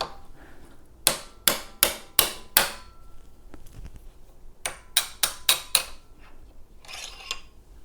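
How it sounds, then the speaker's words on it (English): A hammer strikes a transfer punch to drive a suspension shaft out of an S22 suspension. Two bursts of four or five sharp, ringing metallic blows land in quick succession, separated by a short pause, with a faint scrape near the end. "Take my hammer."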